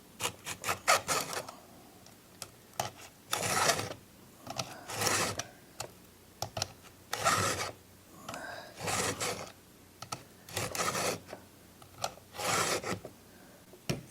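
Close, rhythmic rasping strokes as a Stihl MS 250 chainsaw chain is filed by hand, with short bursts of filing separated by pauses of a second or so and occasional light clicks.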